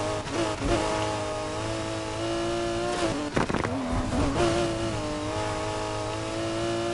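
Lamborghini Aventador S Spider engine in a racing game, a loud sustained revving note with a sharp gear change and brief drop near the middle before climbing again, no voices.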